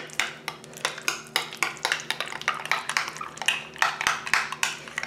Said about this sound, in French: Donc je vais l'écraser avec une cuillère à café ou une fourchette.